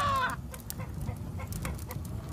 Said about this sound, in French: J'ai mon coq là qui est prêt.